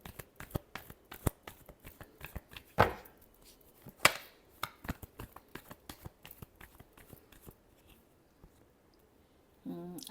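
Tarot cards being shuffled by hand: a quick run of sharp, crisp riffling flicks and taps in irregular bursts, close and clear, easing off toward the end with no talking.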